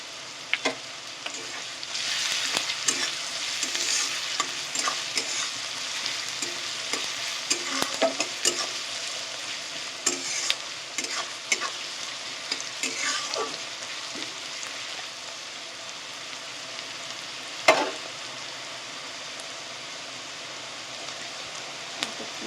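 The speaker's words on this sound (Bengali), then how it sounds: "পেঁয়াজটা আমার একটু লাল লাল করে ভাজা হয়ে গেছে।" Onions with a pinch of salt frying until reddish-brown in a pan for a dhaba-style chicken tadka, a steady close sizzle broken by repeated scraping stirs and occasional sharp clinks, with no talking.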